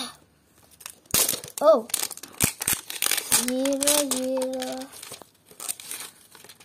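Doorables toy packaging, already cut with scissors, crinkles and tears in sharp, close bursts of plastic rustling, while someone talks and makes short vocal sounds between the crackles.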